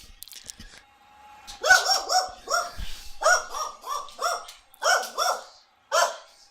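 A dog barks repeatedly in sharp, loud bursts close by, with a rapid irregular rhythm of single and double barks and brief pauses, and no talking.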